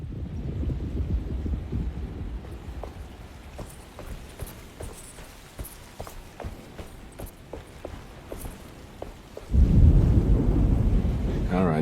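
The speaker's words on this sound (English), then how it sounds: "Just keeping an eye out for the storm." Rolling thunder from an approaching storm in Alone in the Dark, a low rumble under a series of sharp ticks and taps, swelling into a loud, heavy roll near the end.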